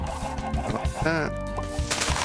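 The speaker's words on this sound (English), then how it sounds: "Gonna be like a large chicken coop." Chickens clucking in the video game Minecraft, several short, close clucks and squawks in quick succession, with some voices underneath.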